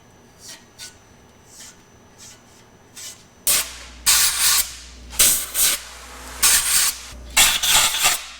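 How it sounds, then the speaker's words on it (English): Compressed air blasting through the oil galleys of a Pontiac 350 engine block during a rebuild, several loud hissing bursts in quick succession after a few fainter puffs, close up with no talk. "I run a brush through every single oil galley in the block and again blow it out extremely"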